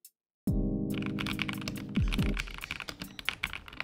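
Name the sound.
mechanical keyboard typing, Press Play Rover 84 switches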